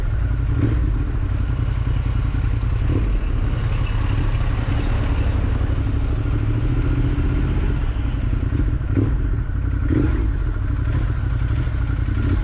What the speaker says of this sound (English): flipping the motor, making sure people know I'm around